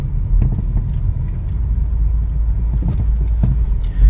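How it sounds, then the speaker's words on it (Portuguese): A car rolls along a road toward a speed bump at low speed, heard from inside the cabin as a steady low rumble with a few soft thumps near the end and no talking. "Olha só, vou chegar aqui no quebra-mola."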